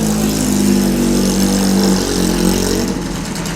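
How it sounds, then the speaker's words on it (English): A classic coupe's engine runs loud and close at a historic racing meeting, a steady throaty drone with harmonic rumble that eases slightly toward the end. "That is one very tasty sounding coupe"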